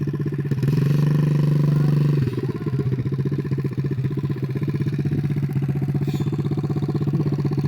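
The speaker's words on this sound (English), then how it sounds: "Give it just a little bit of gas." A small 50cc dirt bike ridden by a five-year-old child, its engine droning steadily and close by, swelling briefly with a little throttle before settling into a rattling, even run.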